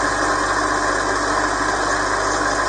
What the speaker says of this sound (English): So it's now time to start it up, and as you can see, it actually runs quite loud